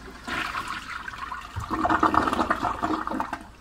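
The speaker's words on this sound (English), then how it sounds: "Let's give her a flush." A 2000s Toto Drake toilet flushes with a loud rushing gush of water that swells and churns close by, with no talking.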